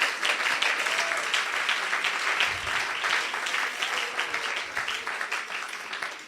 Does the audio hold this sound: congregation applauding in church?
yes